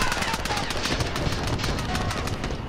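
Rapid automatic Uzi submachine gun fire in a shooter game, dense continuous bursts of sharp cracks at close range, loud throughout with a voice talking underneath.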